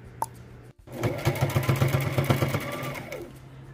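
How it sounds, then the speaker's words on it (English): A sewing machine stitches fabric pieces together for a homemade lounge bed, whirring in a steady run of rapid mechanical thumps for about two seconds before winding down, heard up close. "Now it's time to sew."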